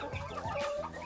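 Shamo chickens cluck nearby in short, repeated bursts, with a higher drawn-out call from a hen mixed in.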